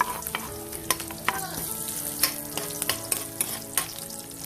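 Garlic fries in hot oil for chicken adobo, giving a close, steady sizzle with a spoon stirring and tapping against the pan.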